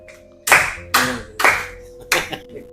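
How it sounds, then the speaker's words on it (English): Four sharp, loud claps ring out in a slow, even rhythm, close and clear with a slight reverberant tail after each one. "And we clap for him."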